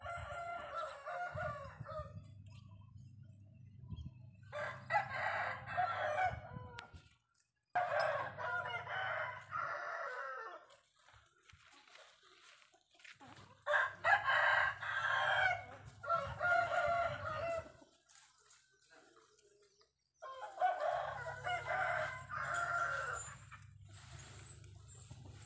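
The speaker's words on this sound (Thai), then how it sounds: "ขนาดเสียงไก่คันยังไม่ตื่นนะอ้วน" A rooster crows repeatedly in loud, drawn-out calls, roughly five crows spaced through the stretch, with brief gaps and a low steady hum underneath.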